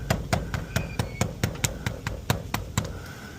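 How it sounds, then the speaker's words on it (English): A rubber hammer taps a part into place on a Honda Civic, about fourteen quick, sharp, evenly spaced blows, close and moderately loud with no talking. "Now I'm gonna get my rubber hammer."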